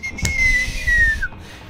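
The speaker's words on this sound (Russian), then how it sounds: "Отлично, у меня свист получился." A single whistled note glides slowly downward and then stops, played over low background rumble from a Max Payne 3 multiplayer match.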